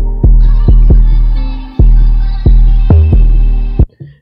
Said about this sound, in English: I'm going to use this first 808, which is hitting up here